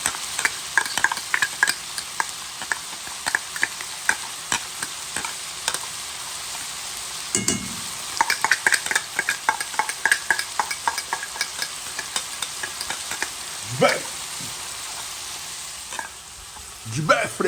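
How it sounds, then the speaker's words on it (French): Garlic and ginger frying in a pan while being cooked for a beef and carrot dish, a steady close sizzle broken by repeated sharp scrapes and clinks of stirring. "Je mets l'ail et le gingembre dedans."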